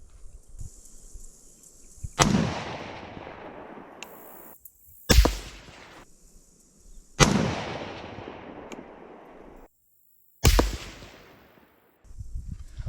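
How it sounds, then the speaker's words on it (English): Rifle shots at a shooting range while zeroing the rifle, with sharp loud cracks spaced a few seconds apart, each followed by a long echoing decay, and quiet stretches in between. "Right now I'm going to fire a 2-shot group"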